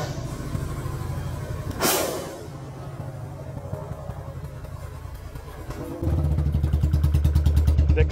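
A Royal Enfield Bullet 350 idles with its exhaust thumping, lets out one sharp loud backfire crack early on, then revs harder into a rapid, pulsing exhaust beat.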